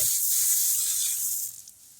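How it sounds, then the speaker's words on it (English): Water sprayed onto freshly dug agate and druzy quartz crystal rocks to rinse them, a steady close hiss that fades toward the end. "So I like to spray them off and then just give them a quick scrub with the toothbrush"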